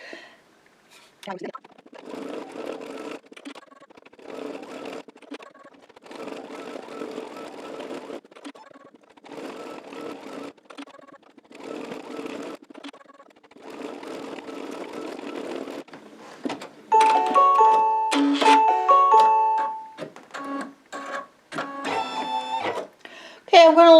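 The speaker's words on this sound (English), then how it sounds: "I'm going to switch to the red and do the last stitch on the motif itself." An embroidery machine stitches red thread on a Christmas cracker motif for an in-the-hoop cover, its fast rhythmic whirring and clicking rising loud near the end after a stretch of talk.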